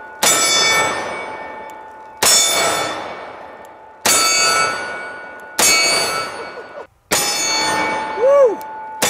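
A steel target ringing after hits from .500 Magnum revolver rounds, five loud, evenly spaced clangs, each decaying into a long metallic ring.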